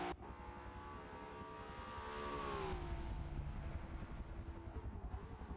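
Turbocharged Nissan Skyline GT-R R34 in Forza Motorsport, its engine holding a loud, steady high-rev drone with a rising then falling pitch as it crosses the finish line, no talk over it.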